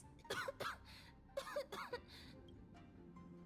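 Two pairs of rough, hoarse coughs from a Honkai: Star Rail character, each a quick double hack, over a faint low hum, then quiet.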